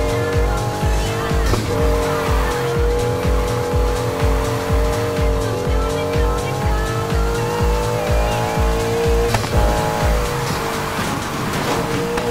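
A Porsche 718 Cayman GTS drifting in Need for Speed Heat, engine roaring loudly with rapid rhythmic revving while the tires squeal continuously through the slide.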